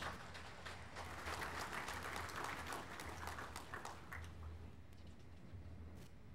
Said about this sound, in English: Let's give the honoree a round of applause.